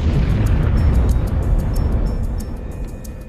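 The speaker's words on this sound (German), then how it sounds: "gab es eine gewaltige Explosion." A huge explosion at dawn in the town of Ortona during the battle, a deep sustained boom and rumble that fills the low end and slowly fades, with no voices.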